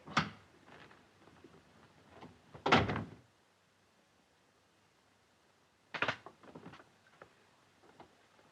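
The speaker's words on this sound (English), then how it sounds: "Lock the door." Wooden doors in a 1938 black-and-white film shut and latched: a soft knock at the start, a sharp slam near three seconds and another thud with a rattling latch near six seconds, separated by near silence.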